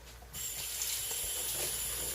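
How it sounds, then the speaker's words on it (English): Two cups of water pour into an Instant Pot with barley and chicken inside: after a short quiet start, a steady close hissing splash runs to the end without any talk. "So in goes my 2 cups of water."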